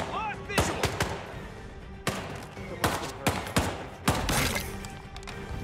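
Sharp gunshots in Hitman 3 gameplay, five or six separate reports spaced irregularly over a few seconds, close and fairly loud above a steady game background.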